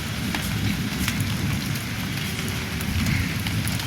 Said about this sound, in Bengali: হালকা বৃষ্টি পড়ছে